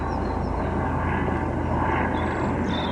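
A helicopter on patrol over London at night, a steady droning rotor and engine hum holding at an even level throughout without pause.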